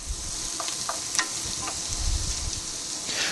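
Onions sauté in hot butter in a pan, giving a soft, steady sizzling hiss with occasional faint pops and scrapes, heard alone without talk.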